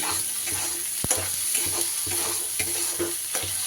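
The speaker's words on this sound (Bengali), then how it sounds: "সুন্দর করে মশলা আমি কিন্তু কষিয়ে নিচ্ছি" Spice masala sautéing in a hot pan for a vegetarian recipe: a steady, loud sizzle broken by regular scraping stirs, with no talking.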